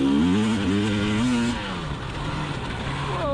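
A 2020 KTM 300xc TPI enduro motorcycle with its two-stroke engine buzzing nearby, revving up and down in a wavering pitch before settling into a rougher, steadier drone.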